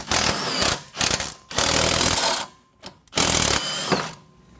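A tool removes the bottom strut bolt on an ND Miata during a coilover install. It works in loud, grinding mechanical bursts separated by short pauses, close to the listener.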